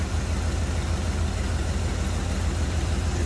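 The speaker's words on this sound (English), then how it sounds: "smooth running V8" A 1959 Buick LeSabre hardtop sedan's V8 idles smoothly, a steady low rumble with an even, unbroken drone close by, no talking over it.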